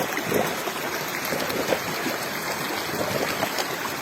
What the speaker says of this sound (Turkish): bölüm bölüm ara ara kayaların içinden çıkıyor sular.